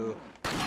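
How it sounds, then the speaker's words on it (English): A gunshot goes off abruptly in the video game Resident Evil 4. It sounds as one loud, broadband blast that cuts in after a quiet lead-in. "I was gonna shoot the thing out of your hand."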